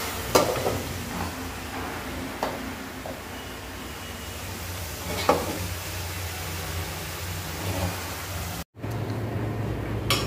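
A boy stirring curry in a pan, the utensil scraping and clanking at intervals over a steady sizzle of frying, close and fairly loud.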